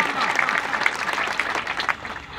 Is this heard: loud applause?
yes